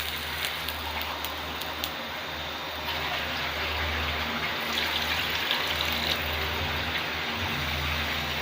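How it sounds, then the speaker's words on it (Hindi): Two glasses of water poured into a cooking pot for beef pulao, a steady, close splashing wash that continues without a break and grows slightly fuller midway. "दो गिलास इसमें हम पानी शामिल करेंगे।"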